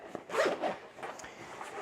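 A zipper on an Osprey Escapist backpack with a rainproof zip is drawn open in a few quick close rasping pulls, then slows to softer tugs.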